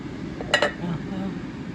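A lid set down on a pan of masala omelette cooking on low flame, making a quick double metallic clink that stands out briefly over a quiet background hiss.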